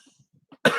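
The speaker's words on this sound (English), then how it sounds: "I just had to do it between coughing attacks on that one, like I'm having one now." A person in a coughing attack gives a few faint breaths and throat sounds, then one sudden loud, harsh cough bursts out close to the microphone.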